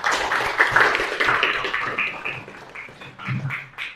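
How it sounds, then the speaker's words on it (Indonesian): Classroom applause for a student, a dense crowd of hands clapping steadily for about four seconds, fairly loud with no break. "Tepuk tangan dulu buat Asraf."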